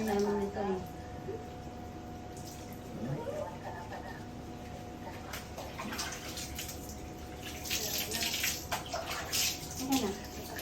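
Water runs steadily while a dog is bathed, a continuous hiss with splashes and dripping beneath people talking, louder bursts of spray toward the end.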